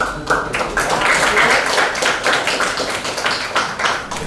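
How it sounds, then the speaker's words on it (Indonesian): A class claps hands together in a room, a loud, busy patter of many overlapping claps held steady for several seconds, with no voices rising above it. "Oke, kasih tepuk tangan, silakan."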